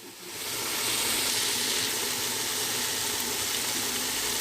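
Spoonful of yogurt dropped into hot biryani masala, setting off a loud, steady sizzle that swells within the first half second and holds as a continuous, close hiss of frying, with no voices over it.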